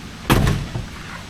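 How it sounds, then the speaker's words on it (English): The heavy door of a 1964 Cadillac Deville shuts with a single close, solid slam and a short rattle, followed by a softer thump of the latch settling. "Let me make sure this door is shut."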